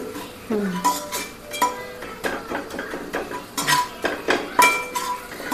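Ghati masala roasting with brinjal in a pan, with a metal spoon repeatedly clinking and scraping against the vessel in uneven bursts over a faint sizzle, close up, with a little speech in places.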